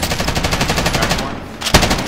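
Rapid automatic gunfire in Call of Duty Warzone, a steady stream of close, loud shots that briefly pauses and ends with a single sharp report.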